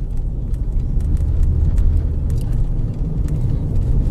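A 2020 Lada Granta with an automatic gearbox pulls away through fresh snow, its engine a steady low rumble that holds close and even throughout with no voices.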